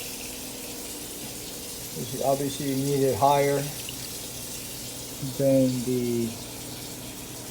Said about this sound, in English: Go ahead and add a little bit more water in that condenser.